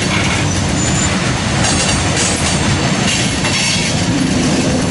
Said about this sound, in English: BNSF moving power in the yard.